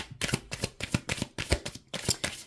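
Tarot cards shuffled by hand in quick bursts, a series of crisp riffling and slapping sounds in an uneven rhythm, close and clear with brief pauses between.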